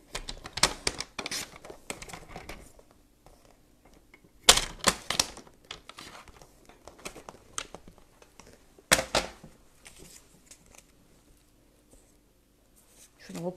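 Paper being cut with scissors or a trimmer for a small handmade snowflake-themed mini album, giving quick close snipping and rustling bursts, with soft talking in between.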